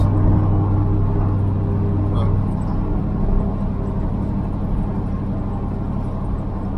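A 1948 Ford F1 custom panel truck on the move, its engine giving a loud, steady low rumble heard from inside the cab, continuous throughout with no talk.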